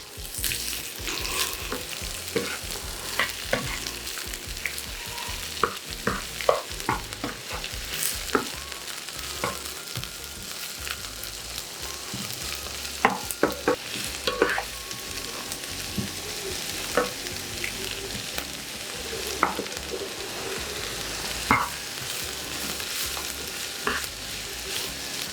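White and red onions cooking down in a frying pan give off a continuous close sizzle, dotted with sharp clicks and scrapes of stirring, over about twenty-five seconds without speech.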